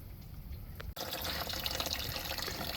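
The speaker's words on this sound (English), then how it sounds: "I fill it up with water." After a quiet start, water suddenly begins pouring into the coolant reservoir of a 2011–2019 Ford Explorer Police Interceptor Utility, a close, steady splashing fill that runs to the end.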